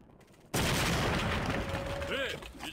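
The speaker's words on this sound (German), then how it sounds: "Würde ich sagen, schicken wir erstmal einen Knallfrosch da raus." A firecracker goes off in the Indiana Jones and the Infernal Machine video game: a sudden loud blast after brief quiet, followed by a sustained rumbling, crackling tail and some faint tonal effects.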